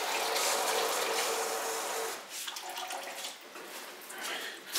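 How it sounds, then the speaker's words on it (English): Water poured steadily from a jug into a bucket of pottery glaze, a loud continuous splashing gush that tails off and turns uneven after about two seconds. "One needs to add water."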